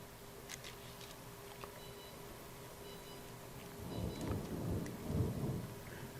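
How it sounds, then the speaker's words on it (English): Low thunder rumbles from a monsoon storm, faint at first and then swelling into a louder, rolling peak near the end, with light rain ticking in the background during a kitchen session slicing roast beef for freeze drying. "You may hear some thunder out in the background"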